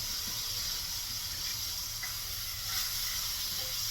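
Water sizzles steadily in a hot sauté pan of vegetables, cooked without extra oil for a healthy vegetable risotto; a continuous, close hiss with faint crackles and no talking.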